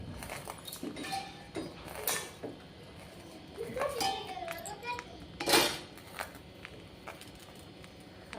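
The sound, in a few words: putting a lid on the pot of fish curry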